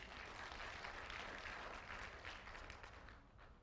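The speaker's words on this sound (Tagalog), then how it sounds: "Bigyan natin ng palakpak ang Panginoon." A church congregation claps in praise of the Lord, producing dense, steady applause that continues throughout, sounding distant and soft before tapering slightly at the end.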